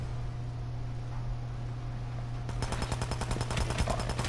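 Rapid automatic fire from an assault rifle in the video game Hitman Absolution, starting partway through as a fast, evenly spaced burst of loud cracks over a steady low background hum.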